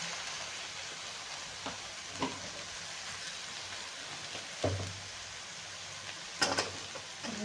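Chopped onions sauté in a pan for eggplant bharit, giving a low, steady sizzle with a few sharp knocks from a stirring spatula.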